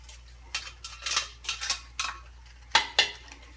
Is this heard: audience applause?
no